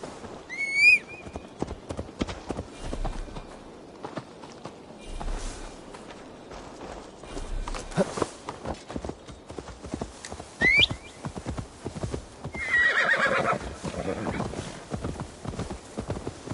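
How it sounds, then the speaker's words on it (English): Hooves clip-clop at a walking pace with a horse whinnying now and then in Assassin's Creed Valhalla, game-style effects, and occasional faint voices in the background. "Now to deliver Magni his horse."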